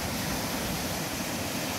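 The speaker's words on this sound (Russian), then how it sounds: "волны такие." Waves on Lake Baikal, lapping steadily near the shore in a continuous broadband wash with some wind, loud and without any voices.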